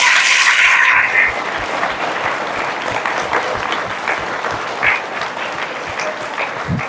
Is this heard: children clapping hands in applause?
yes